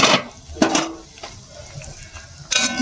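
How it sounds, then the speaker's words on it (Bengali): Gravy chow mein with carrots and green beans bubbles in a pot, a soft boiling hiss broken by a few sharp clinks and scrapes of the lid and utensils against the metal. "এই দেখুন কত সুন্দর ফুটছে"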